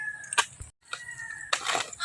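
Fighting roosters on a farm crow and cluck in a couple of short, fairly close bursts, separated by a brief gap of near silence.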